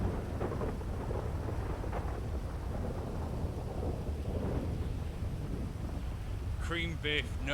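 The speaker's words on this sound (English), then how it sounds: "The storm has been raging for a good hour nearly now" A thunderstorm that has been raging for about an hour: constant heavy rain and low rolling thunder rumble throughout, with wind buffeting the microphone and a brief tonal sound near the end.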